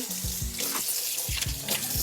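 Steady warm water pouring from a tap into a sink, a constant close splashing rush with small clunks and bumps underneath.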